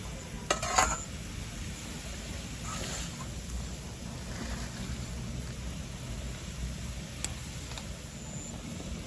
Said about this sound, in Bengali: আস্তে আস্তে কইরা নাড়াই নাড়াইয়া সিমইটা রান্না করে ফেলবে।